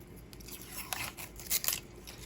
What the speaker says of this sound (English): You cut them pretty thin in half rounds.